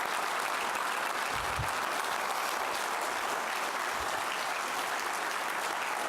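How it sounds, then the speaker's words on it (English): Dense, steady audience applause for the organizers at a Ruby community conference, a full crowd clapping continuously at an even level from start to finish. "can we have an uproarious round of applause for the organizers?"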